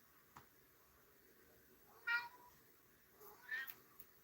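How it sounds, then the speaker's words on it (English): A domestic cat meows twice indoors, two short clear calls a second or so apart over a quiet background, with no one speaking. "Right now, it's my cat meowing at me."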